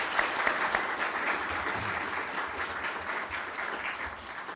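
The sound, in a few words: audience applause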